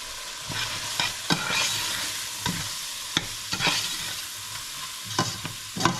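Mushrooms and shredded carrots cooking in a pan with a little water, a steady soft sizzle and steam hiss broken by several sharp stirring scrapes at irregular intervals, close and moderately quiet.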